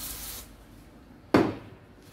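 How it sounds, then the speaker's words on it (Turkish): Two bursts of brake cleaner spray, a soft hissing spray at first and then a sharper, louder aerosol blast that tapers off, heard close during work on a hydraulic jack. "Ama ondan önce bir balta sprey sıkıp"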